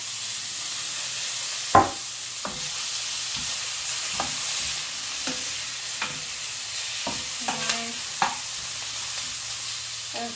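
A vegetable and prawn stir fry sizzles loudly in a pan with soy sauce, a constant hiss broken by repeated sharp scraping and clanking stir strokes at irregular intervals, with no voices.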